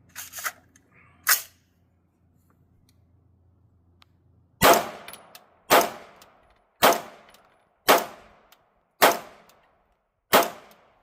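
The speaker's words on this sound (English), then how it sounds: "Q Sugar Weasel 300 Blackout, 200 grain subsonic, bottle rocket, not a suppressor. Will it cycle?" An unsuppressed 300 Blackout rifle shoots 200 grain subsonic rounds outdoors. Two sharp reports come first, then after a pause a steady string of six loud shots about one second apart, each with a short decaying tail.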